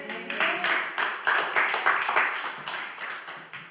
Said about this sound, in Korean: 여러분 하나님께 영광의 박수 한번 드려요